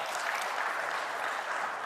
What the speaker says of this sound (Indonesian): Saya berikan tepuk tangan pada teman-teman BAN dan LAM.